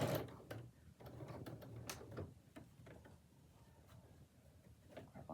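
A sewing machine stitches an apron, quiet uneven bursts of needle clatter and mechanical ticking close by, with pauses between short runs.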